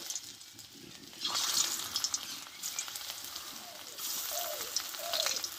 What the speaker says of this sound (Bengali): দিয়ে আমি এগুলো ভেজে নিব